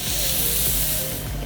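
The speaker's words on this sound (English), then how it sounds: "Take my hot comb" A hot comb pressed through a freshly spritzed 32-inch water wave wig, giving a continuous close, breathy hiss of steam.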